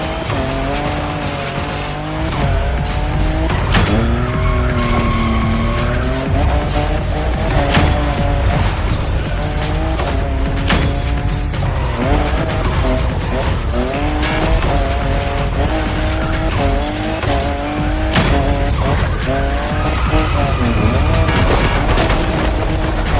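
A Toyota Supra racing in The Crew Motorfest, its engine loud and continuous with rising and falling revs, tires squealing through turns and occasional thuds.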